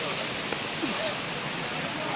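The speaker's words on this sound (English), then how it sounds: "So this is the waterfall." A waterfall at Obudu Cattle Ranch in Cross River State, heard as a steady, dense broadband rush of falling water that holds constant throughout without breaks.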